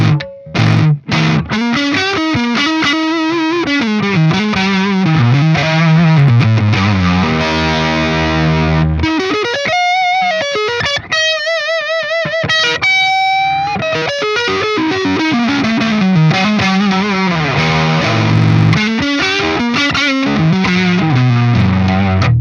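A distorted electric guitar through a Friedman IR-X plays loud, continuous chords and bending lead lines with gritty sustain, a brief pause around the middle, and no speech.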